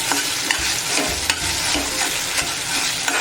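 Pavta potato bhaji being stirred in a pan, with a steady frying sizzle and repeated scraping strokes of the spoon against the pan in a loose rhythm, close and fairly loud.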